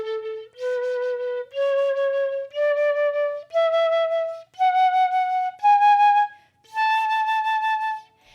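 A Hall crystal flute, a glass flute, plays a slow rising sequence of eight clear, breathy sustained notes, each separated by a short pause, heard alone and close.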